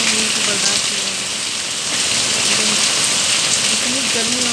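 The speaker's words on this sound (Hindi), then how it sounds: "इतनी बारिश हो रही है" Heavy rain pours in a dense, loud, steady hiss close by, drumming on surfaces without letup.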